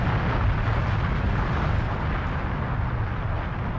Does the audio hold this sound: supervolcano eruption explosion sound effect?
yes